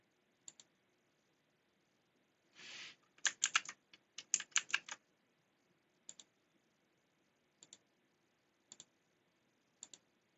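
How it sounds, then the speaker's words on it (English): Sharp computer mouse clicks during drawing work in Illustrator, a handful of isolated single and double clicks spread out with a short burst of rapid clicking in the middle, close and crisp with no talking. "I'm just going to try and click here."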